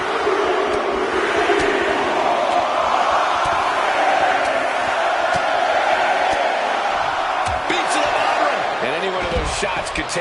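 A wrestling arena crowd in the video game WWE 2K26 keeps up a continuous loud roar and murmur, with scattered thuds, under steady commentary talk.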